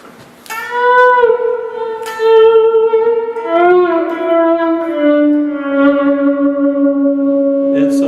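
Amplified electric guitar plays long sustained notes with rich harmonics and slide-like pitch bends, ringing out with echo and reverb.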